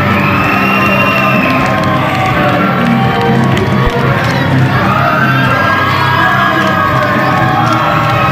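A wrestling crowd at a CCW show cheers for wrestler Brian Anthony, a steady, loud mass of shouts, whoops and excited voices filling the hall throughout.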